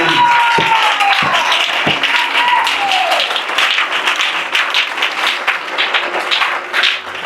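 A church congregation applauds and cheers to acclaim Jesus, a loud, dense, sustained clapping that fills the room for the whole stretch, with scattered voices and a few sharp claps standing out near the start.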